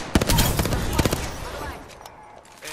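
Bursts of automatic gunfire in Apex Legends, a rapid string of loud, sharp shots clustered early, then thinning out over in-game ambience.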